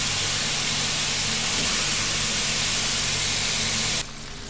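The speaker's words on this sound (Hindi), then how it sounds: "आप देख सकते हैं कि हम लोग का बीफ इस तरह फ्राई हो रहा है।" Beef frying in hot oil for Mongolian beef gives a loud, steady, close sizzle that holds evenly before dropping abruptly to a quieter hiss near the end.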